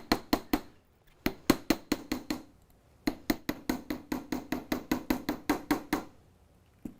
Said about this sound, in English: I just love to hammer the whole thing.